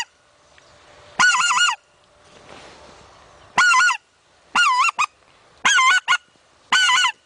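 Loud, whistled honks from a goose call imitating a white-fronted goose, sounded in five separate bursts of warbling, two-tone notes with quiet pauses between, alone without talk.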